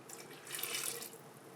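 Cold water pours from a tap into a mixing bowl for pizza dough, a soft, brief hissing splash of running water heard alone at low level.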